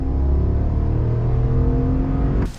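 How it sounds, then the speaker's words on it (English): A 2022 GMC Sierra 1500 AT4X pickup accelerates at full throttle, its engine a loud, steady droning roar heard from inside the cab that drops off abruptly at the end. "Full throttle."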